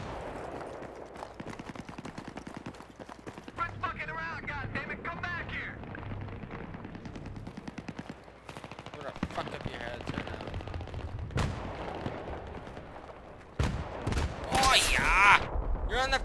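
Gunfire in Battlefield 3 multiplayer on Noshahr Canals during a team deathmatch, aimed at a sniper: scattered shots and bursts with a sharp flurry near the end, partly under someone talking.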